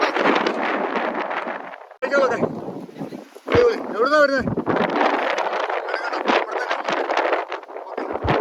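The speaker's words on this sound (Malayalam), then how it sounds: "കാറ്റ് നമ്മളെ എടുത്ത് എറിയുവാണ്" Strong wind buffets the microphone at a hilltop viewpoint near a coffee shop, roaring in heavy gusts with a brief lull, while people talk over it.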